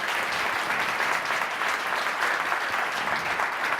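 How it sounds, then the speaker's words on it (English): At an alumni reception in Silicon Valley, a crowd gives a sustained round of clapping that stays even and full throughout, close and without speech. "I think we should give them another round of applause."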